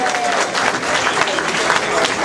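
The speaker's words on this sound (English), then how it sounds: "Round of applause, please, for Paul and the Avenue Diner" Applause and crowd noise fill a neighborhood block association celebration, steady and loud throughout, with voices mixed in.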